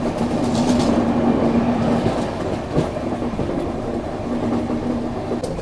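The Rameshwaram Firozpur Humsafar Express rolls along the rails, heard from aboard as a loud, continuous rumble with faint rhythmic wheel clatter and no talking.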